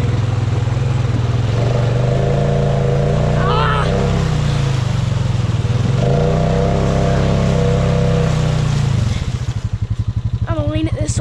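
A Honda Rubicon ATV engine roars steadily and loud as it pushes through thick mud, the pitch rising and falling with throttle before dropping to a rough, pulsing idle near the end.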